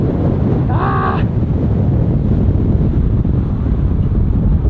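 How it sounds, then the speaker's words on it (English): Strong wind buffets the microphone in a steady, loud roar throughout, with a short exclamation near the start, outdoors beside a 2023 BMW M340i in the Coachella Valley. "I'm probably not gonna talk on this walk around because it's so freaking windy"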